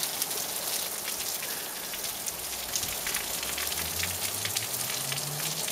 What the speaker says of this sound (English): It's even raining on my sock.